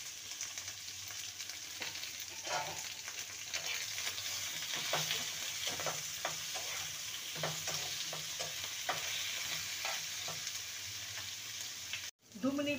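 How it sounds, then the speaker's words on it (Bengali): Winter vegetables frying in a pan with turmeric and salt, a steady close sizzle broken by repeated scrapes and clatters of stirring, no voices. "দু মিনিট ধরে সবজিটাকে ভেজে নিয়েছি।"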